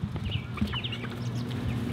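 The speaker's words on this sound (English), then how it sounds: "One chicken." A chicken clucks several times in quick, uneven bursts, soft and close, over a faint low background hum.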